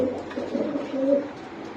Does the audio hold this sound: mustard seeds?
no